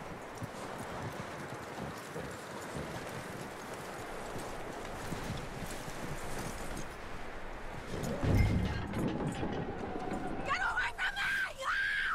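Horse hooves clip-clop steadily in Red Dead Redemption 2, a continuous gait running through the whole stretch under game ambience, with a louder jolt late on and shrill sounds rising near the end.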